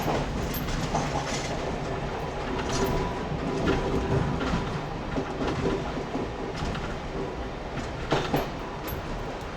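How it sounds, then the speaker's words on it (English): A passenger train runs along the Johnsonville line through deep cuttings and tunnels, a continuous close rumble of wheels with rhythmic clickety-clack over rail joints and occasional sharper knocks. "our train pulls into Rauroa, the highest point on the line"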